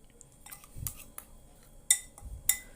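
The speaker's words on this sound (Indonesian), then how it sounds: "Ini diaduk sampai benar-benar halus dan kental." A spoon clinks against a glass while sugar is stirred into a drink until smooth and thick, a few sharp metallic taps spaced unevenly, close and fairly quiet with no talking.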